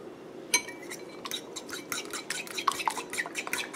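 A utensil stirs seasoned salt and cheese together in a dish for chicken, giving soft scraping with light clinks and taps that grow busier toward the end, close and fairly quiet with no voices.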